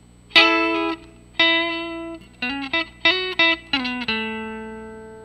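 A short electric guitar lick from a song: a few ringing notes, then quick bent and hammered double stops, ending on a note that fades out.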